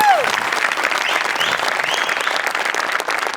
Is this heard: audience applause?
yes